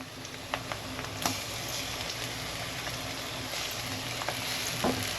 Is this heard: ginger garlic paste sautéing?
yes